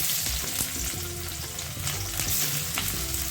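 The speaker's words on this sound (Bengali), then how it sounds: "কড়াই বসিয়ে বেশ কিছুটা পরিমাণ সর্ষের তেল দিয়ে দেবো" Mustard oil heats and sizzles in a wok, making a steady, fairly loud frying hiss with faint clinks and scrapes throughout, and no voices.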